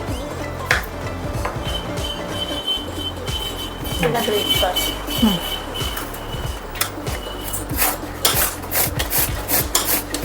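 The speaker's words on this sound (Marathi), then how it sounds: "आता आपण किसून घेऊया पूर्ण त्याच्यामध्ये हे आता असं सगळं ग्रेट करून म्हणजेच किसून झालेलं आहे" Bottle gourd being grated by hand in a kitchen, a continuous close rasping scrape with rhythmic strokes, while someone talks over it.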